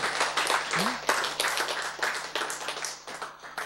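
A church congregation claps steadily in a fairly faint, continuous patter of many hands, with a brief voice and some rustling mixed in.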